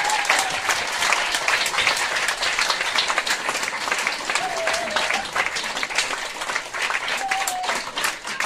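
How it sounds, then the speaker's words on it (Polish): A crowd at the closing of a Christmas-tree concert by a Polish ensemble applauds the performers and instructor, with sustained, even, full-room clapping throughout, close and loud. "Wielkie brawa."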